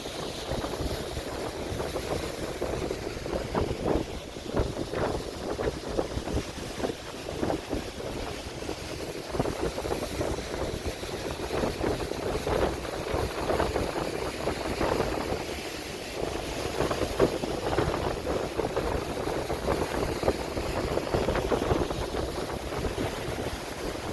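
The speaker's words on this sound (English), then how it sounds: "I love the sound of the waves when they're like this" Ocean waves at Jacksonville Beach, Florida, heard from an elevated spot, a steady broad wash of surf mixed with gusting wind noise on the microphone, continuous and fairly loud throughout with no talking.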